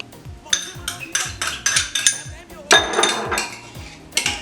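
Spoon scrapes and clinks against a bowl as garlic and chopped onion are stirred into a paste, in a series of short, uneven, fairly close strokes with a voice talking underneath.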